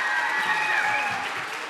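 Audience applause for the orange table at a game show, a steady burst of clapping that holds evenly and begins to taper at the end.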